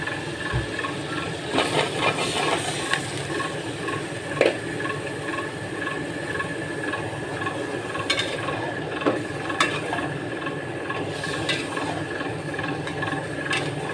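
Bottle gourd pieces stirred into a spiced masala in a pan for a small-fish curry, giving steady scraping and stirring clatter over a soft continuous hiss, with a few sharper knocks of the utensil.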